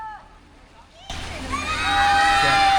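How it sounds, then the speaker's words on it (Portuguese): Water fountains in a Xi'an plaza that spout in response to shouting: a crowd voice rises, then loud rushing water and splashing swell and keep building. "A gente está chegando ali em uma área com essas fontes d'água e elas são ativadas por gritos."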